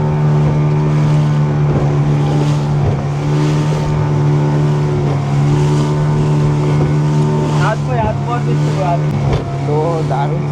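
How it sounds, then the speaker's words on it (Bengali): A motorboat ride near Monkey Island in Goa, with a loud, steady engine drone running throughout and people talking over it. "আর বোট কিন্তু একবার উঠছে আর নামছে, উঠছে আর নামছে।"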